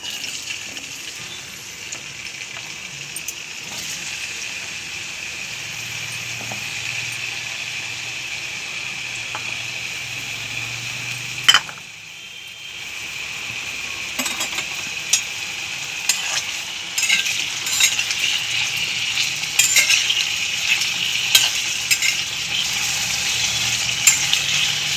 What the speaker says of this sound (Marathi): आता आपण कढईत बटाटा घालून घेऊ।